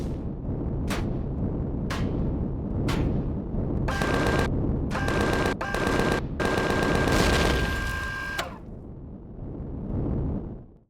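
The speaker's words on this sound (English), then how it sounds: "Little gun there shooting at me from a long ways away." Gunfire erupts in the space survival game Empyrion, starting with a few separated single shots and building into rapid, dense bursts from a small gun before the firing fades.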